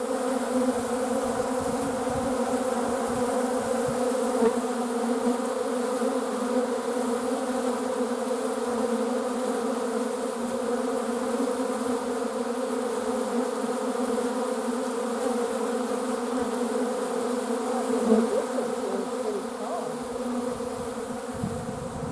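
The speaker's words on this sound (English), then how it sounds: "Little ball of bees here, but they don't really seem to be fighting." A dense, steady buzz of many honeybees climbing over one another in a cluster hums continuously up close, with no talking, holding an even drone throughout.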